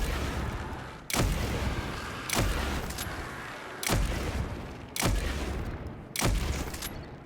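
Whisper of the Worm, an exotic sniper-style gun in Destiny 2, fires five heavy, booming shots at roughly one-second intervals, each with a long reverberant tail, loud and close with no speech.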